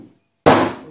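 A tool strikes a car body panel once to make a practice hail dent for paintless dent repair, a sharp, loud metallic whack that rings out and decays after a brief quiet moment.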